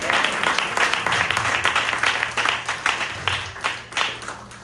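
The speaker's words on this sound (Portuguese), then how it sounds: "Pode aplaudir ao papai." Congregation at a family church service applauding, a dense wash of clapping from many hands that stays loud, then thins toward the end, with a low hum underneath.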